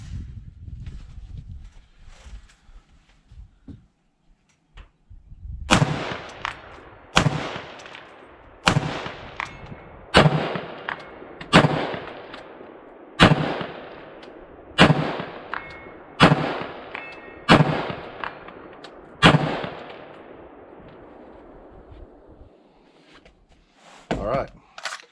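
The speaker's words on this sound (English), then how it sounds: "let's take some shots at the 200-yard plate down there" A Foxtrot Mike FM-15 side-folding rifle fires about a dozen sharp, evenly spaced shots at a 200-yard steel plate outdoors. Each crack is loud and near and rings out with a short echo. Talk is heard before and after the shots.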